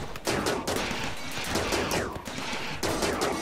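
Gunfire is exchanged in the video game RimWorld with a Call of Cthulhu mod: dense, rapid bursts of shots crackle continuously for several seconds, loud and close, with almost no speech.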